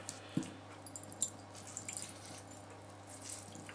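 Water dripping from a wet paper towel being wrung out over a bowl, a few faint soft drips and squishy trickles, close and quiet, with no talk.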